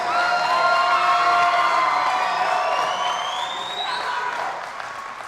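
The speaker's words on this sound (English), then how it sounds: "Let's give them another round of applause." An audience at a Mr. and Miss Seabreeze pageant applauds and cheers loudly and continuously, with whistles rising above the crowd before the noise slowly fades.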